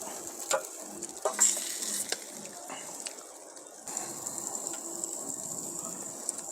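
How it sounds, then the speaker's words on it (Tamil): A Paarai fish grills over a fire on a rooftop, giving a faint, steady sizzling hiss broken by occasional small crackles and pops. "அந்த மீன் சுருங்குற சத்தம் தான் வேகிறது"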